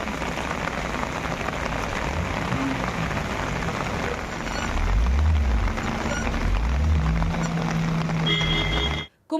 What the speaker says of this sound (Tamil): மயிலாடுதுறை மாவட்டத்தில் பல்வேறு இடங்களில் பரவலாக மிதமானது முதல் கனமழை பெய்தது.